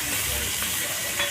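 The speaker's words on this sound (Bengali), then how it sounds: "এবার আমি পেঁয়াজ কুচিগুলোকে লাল করে ভেজে নেব।" Chopped onions frying in oil tempered with dried red chili and whole cumin, a short steady hissing sizzle heard close with nothing else over it.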